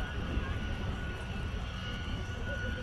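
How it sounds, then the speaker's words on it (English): A Douglas Dakota taxis along the runway at the Coventry air show, its engines giving a steady, broad drone with a faint tonal whine, while a commentator's voice carries over the noise. "as the Dakota backtracks up the runway"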